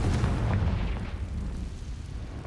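A Confringo blasting spell goes off in Hogwarts Legacy, a deep rumbling boom that swells at once and slowly dies away, heavy and close, with no voices over it.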